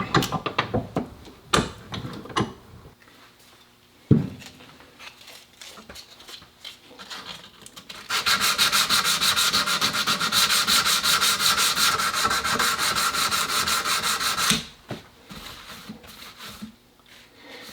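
Hand sanding of metal in good condition with 100 grit sandpaper gives a steady, loud, rasping rub for several seconds, framed by quieter scattered scrapes and taps before and after.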